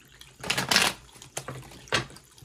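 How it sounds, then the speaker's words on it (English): Tarot cards being shuffled in several quick riffling bursts, close and fairly loud, with short pauses between them. "I got to get my shuffles in"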